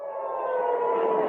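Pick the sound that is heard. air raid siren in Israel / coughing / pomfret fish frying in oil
air raid siren in Israel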